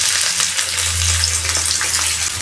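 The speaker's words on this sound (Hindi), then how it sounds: "प्याज को हल्का सा फ्राई करेंगे।" Frozen onions fry in hot oil in a pan for a brinjal (bhuna magaz) masala, giving a steady, loud, close sizzle with a low hum running beneath it and no talking.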